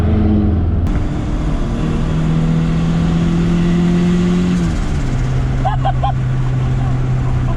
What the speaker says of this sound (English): That little sputter, that little tu-tu-tu. Man, that sounds bad good.